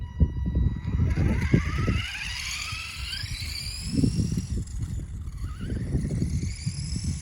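A 1985 Mugen Bulldog radio-controlled car being driven: a thin electric motor whine rises and falls as it speeds up, over a rough rumble of wheels on the ground, with no talking.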